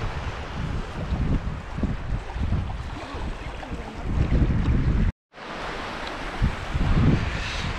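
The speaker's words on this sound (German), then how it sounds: "vielleicht nehme ich mal von den Wellen hier so ein bisschen was auf" Sea waves wash along a shore in a broad, rushing surf noise, swelling and easing under strong wind buffeting on the microphone, with one brief dropout in the middle and no talk.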